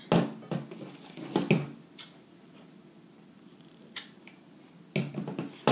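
Scissors trimming a fabric seam allowance on a padded princess dart blouse, several crisp snips in irregular bursts separated by quiet pauses, close and clear.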